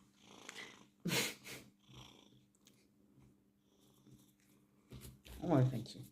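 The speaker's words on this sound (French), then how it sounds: "c'est un chat qui bave." A cat purring close by with low rumbling tones, broken by bursts of speech from a woman over the purr.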